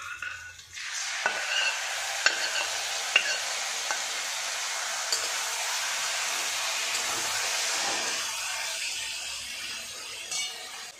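Gravy poured over fried potatoes and onions for aloo bahar sets off a loud, steady sizzle in the pan, with occasional spoon clinks and scraping as the mixture is stirred throughout.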